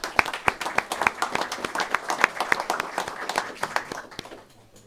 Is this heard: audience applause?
yes